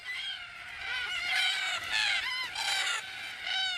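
A flock of cockatoos screeches and squawks at a watering hole in the evening, harsh overlapping calls, loud and continuous with no talking.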